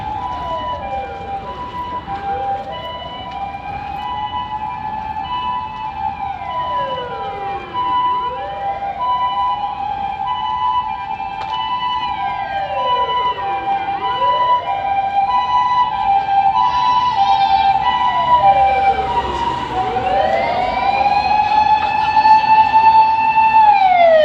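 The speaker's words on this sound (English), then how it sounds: "It's gonna get really loud with the ambulance coming up ahead." An ambulance siren on a Shinjuku street wails in repeated rising and falling sweeps. It grows louder as the vehicle approaches and passes, with faint traffic underneath.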